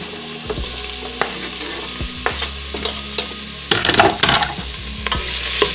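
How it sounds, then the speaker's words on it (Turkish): Chopped vegetables sizzle in a pot on top of lightly browned onions while a utensil stirs and scrapes, with occasional clinks and a busier burst of stirring midway. "Doğradığımız sebzeleri tencerenin içerisine soğanların üzerine ilave ediyorum."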